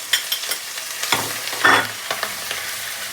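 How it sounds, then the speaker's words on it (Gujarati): Ginger, garlic and chili paste sautéing in hot oil at the start of Surti undhiyu, with a steady close sizzle and a few spoon scrapes and clinks as it is stirred. "પહેલાં પહેલાં આદુ લસણ અને મરચાંની પેસ્ટ નાખી"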